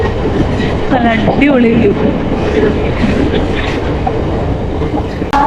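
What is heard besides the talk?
MEMU passenger train running on rails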